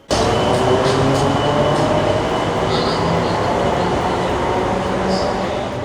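A metro train at a Kolkata metro station gives a loud, steady rumble that starts abruptly and holds constant for several seconds, with faint high squeals and clatter on top.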